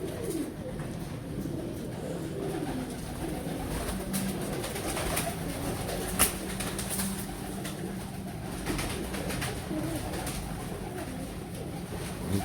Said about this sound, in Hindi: कबूतर ही परेशान हो रहे हैं, सारे बाहर बैठे हुए हैं कबूतर, ज़मीन पे नीचे